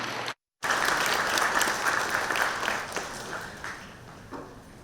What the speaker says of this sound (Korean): 역시 박수로 청해 보도록 하겠습니다.